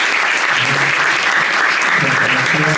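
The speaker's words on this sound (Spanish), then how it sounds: "Un fuerte aplauso para nuestro invitado," A packed audience at a university talk applauds a guest with a steady, dense wash of clapping that holds for the whole stretch, and a voice starts near the end.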